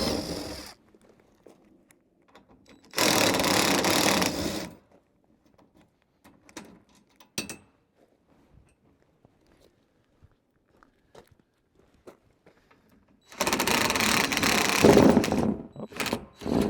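A driver fitted with a T40 Torx bit backs out the top rail screws in two separate close, loud whirring bursts, with small clicks and handling noises in the quiet between.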